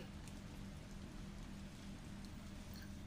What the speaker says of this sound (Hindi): बाहर हो रही है बहुत जोर की बारिश